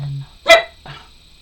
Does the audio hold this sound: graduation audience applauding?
no